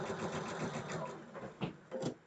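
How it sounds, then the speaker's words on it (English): A sewing machine stitching a nested seam on a Moda Blockheads quilt block, running in a steady rapid whir at moderate closeness, with a couple of brief louder bursts near the end and no talk. "So now I'm just sewing together this seam and I have them nicely nested."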